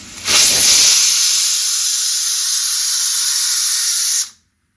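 Pressure cooker on a gas stove releasing a loud, steady hiss of steam that starts abruptly, holds for about four seconds, then cuts off sharply.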